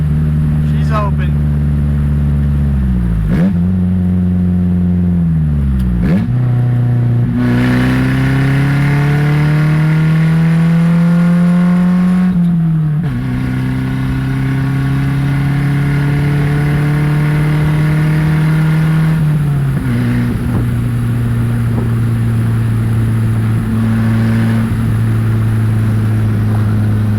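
A Nissan project car's engine revs and climbs through the gears. Rising pitch sweeps are broken by brief drops at each shift. The engine is close and loud and keeps on throughout.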